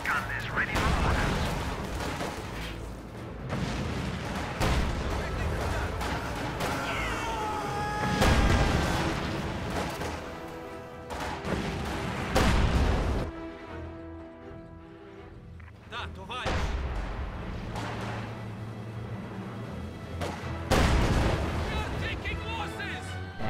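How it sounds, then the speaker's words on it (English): A strategy video game battle with a flamethrower and guns firing, steady bursts of gunfire, booms and crackling under continuous commentary. "Flamethrower is going to engage those conscripts."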